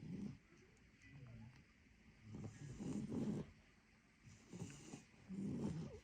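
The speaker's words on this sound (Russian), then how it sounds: "Храп такой стоит, ужас." Two beagles asleep indoors snore in slow, rhythmic pulses, four soft rasping breaths repeating every second or so, quiet and close in a still room.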